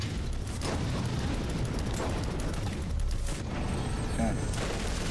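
An APC in the Borderlands video game pounds the player with heavy fire, a continuous rumbling barrage of booms and blasts that fills the whole stretch at steady loudness.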